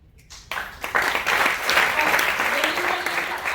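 An audience claps together, beginning abruptly after a brief near-silent moment and then settling into a loud, dense, continuous round of applause that stays steady to the end.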